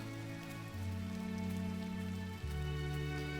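Rain falling in the video game Gris, a soft continuous patter over sustained, slowly shifting musical tones, steady throughout.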